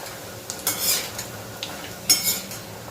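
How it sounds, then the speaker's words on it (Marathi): Sandge, lentil dumplings, fry in a kadhai with a soft, low hiss, while a spatula clinks and scrapes against the metal a few times. "हे आपण तळून घेतो आहोत आता"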